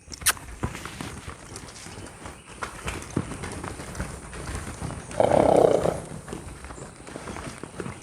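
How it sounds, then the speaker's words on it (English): A horse out of sight behind a plywood wall gives a loud snort or rumbling nicker midway, heard over quiet ambient shuffling and hoof movement around a horse being trained. "There's a horse out on the other side of that plywood, and he made some noise"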